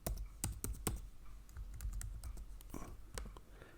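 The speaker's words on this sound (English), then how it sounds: "Let me type the password." Password being typed on a computer keyboard: a quick run of close, crisp key clicks in uneven bursts, alone without talk.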